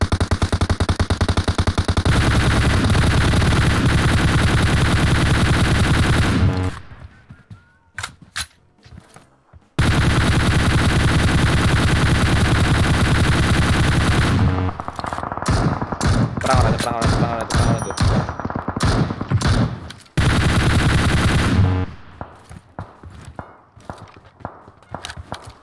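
Enemies fire in a shooting video game, producing long, dense bursts of loud, close automatic gunfire that cut off abruptly into quieter gaps filled with scattered single shots, thuds and footsteps.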